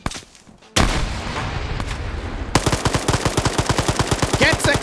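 Rapid automatic gunfire in a large 220-player PvP shooter match, loud and close, first a dense burst, then a steady rhythmic stream of sharp shots with no talking.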